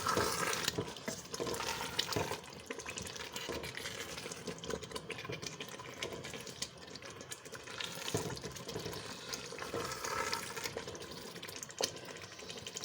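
Bottle gourd and mutton fry in ghee over a high flame, giving a steady, dense sizzle that stays close and fairly loud throughout, with no one speaking.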